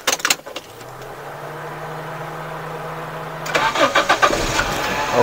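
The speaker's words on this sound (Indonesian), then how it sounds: "kita coba sekarang mesinnya ya" A 1995 Toyota Great Corolla being started: a short whirring starter crank, a steady hum, then the engine catches and settles into a close, rough idle.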